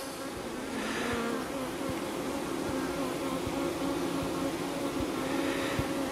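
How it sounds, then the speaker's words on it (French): Honeybees at an apiary hive hum in a steady, dense, close buzz that does not let up, with faint ticking in the background. "Je regarde à nouveau les abeilles."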